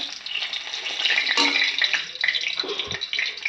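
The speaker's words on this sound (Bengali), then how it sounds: "এখন এখানে আমি একটা শুকনো লঙ্কা দিয়ে দেবো তেলে" Dried red chilli drops into hot oil in a pan where meat has been browning, giving a loud continuous sizzle and spatter with small stirring scrapes and no voice over it.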